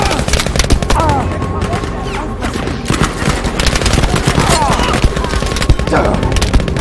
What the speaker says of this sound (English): Who the fuck is shooting, man?